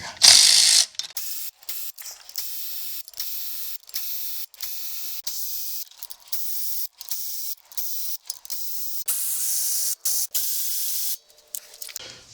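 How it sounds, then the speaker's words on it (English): A ratchet works on the intake manifold bolts of a 1971 Cadillac 472 V8, with quick bursts of close, crisp clicking broken by short pauses as each bolt is turned out. "let's take the bolts out of this intake manifold here"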